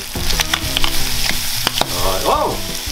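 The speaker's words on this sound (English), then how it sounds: "I can hear the bacon popping over there." Bacon sizzles and pops in a frying pan, a dense close crackle with sharp spitting pops scattered throughout and a faint tonal scrape near the end, loud and without talking.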